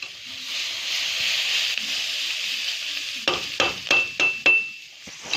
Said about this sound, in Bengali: মাংসগুলো ভাজে।